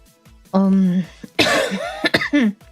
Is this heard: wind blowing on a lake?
no